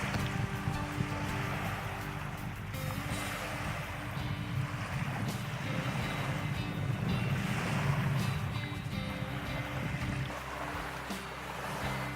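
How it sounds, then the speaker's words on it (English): Ocean waves at Queenstown wash steadily as a continuous broad roar with gentle surges, steady and moderately loud, with some wind noise and no talking. "So you can hear the waves."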